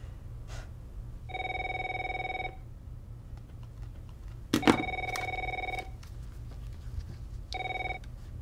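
An office telephone rings in three separate bursts of an electronic bell-like tone, steady and moderately loud over a low background hum, with some faint clicking between rings.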